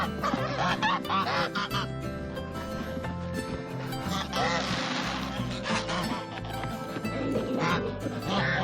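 Geese honk repeatedly and loudly near chickens at feeding time on a farmyard, with overlapping calls and scattered bird sounds throughout.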